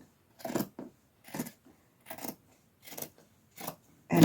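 Scissors snip through fabric while cutting out a Christmas stocking pattern: six or seven separate crisp cuts at a steady, unhurried rhythm, close and clear with quiet gaps between, the last one louder.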